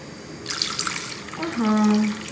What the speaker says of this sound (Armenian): Ջուրն էլ կլցնեմ և պատրաստ կլինի եռալուն։